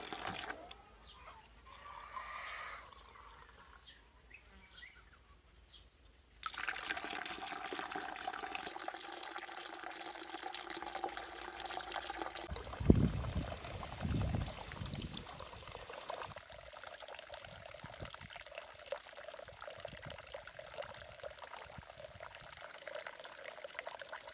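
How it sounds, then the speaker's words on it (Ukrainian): Homemade cherry wine poured and drawn off for tasting: quiet liquid trickling and splashing, a faint stream at first, then a fuller, louder flow with small gurgles and bumps, no talking. "Наберемо трішечки для дегустації."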